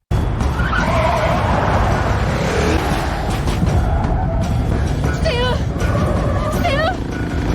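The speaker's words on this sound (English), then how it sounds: "Elyas immediately stepped on the gas, and a chase ensued." A film car chase with a roaring engine under continuous loud driving noise, tires squealing and skidding in several sharp bursts, and speech in the mix.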